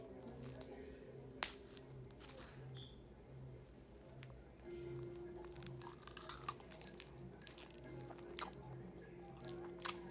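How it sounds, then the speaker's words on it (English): Someone chews a crunchy vending machine snack close to the microphone, with soft crunches and wet squishes over a steady low background hum. "Now we're gonna taste it and see if it still tastes the same."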